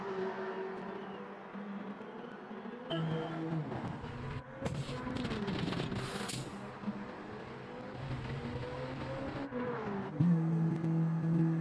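A race car in Gran Turismo 7 pulls into the pit lane during a one-hour endurance race at Trial Mountain, its engine a steady drone that rises and shifts midway before settling to a lower hum.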